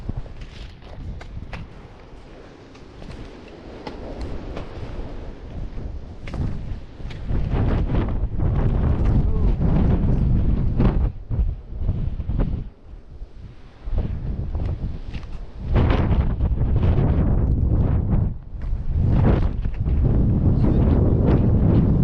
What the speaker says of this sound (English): Certainly windy up the top there, and cold too.